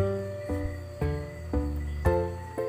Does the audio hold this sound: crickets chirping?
yes